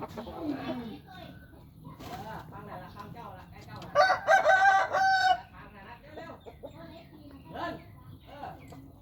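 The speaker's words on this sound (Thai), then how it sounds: "ไก่ยังเป็นไก่หนุ่มนะครับ" A young rooster crows once, loud and close, among several gamecocks with a facial wound on one, while someone talks before and after the call.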